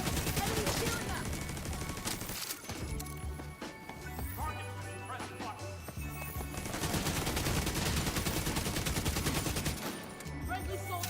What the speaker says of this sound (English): Enemy shooting us!